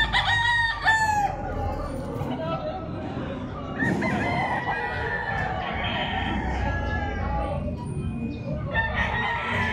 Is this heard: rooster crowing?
yes